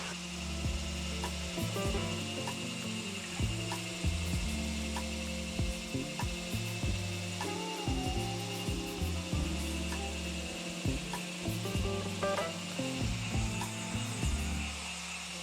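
A wooden lounge chair shell being sanded by hand with 180 grit sandpaper, with steady, continuous rasping strokes that repeat in a close, even rhythm and no talking.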